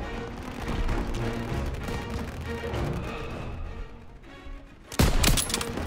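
Dense battlefield gunfire from the Call of Duty WW2 campaign mission Stronghold, a continuous rattle of rapid shots and combat noise that ends in one sudden, much louder blast near the close.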